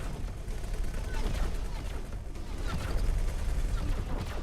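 Positron turrets fire in X4: Foundations against Xenon ships, a dense, continuous barrage of crackling energy shots and impacts at moderate loudness, with a voice talking over it.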